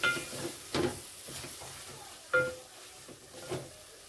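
Spice masala for an okra dish sizzles softly in oil over a low flame, with occasional scrapes and clinks of a spoon stirring in the pan, close and fairly quiet.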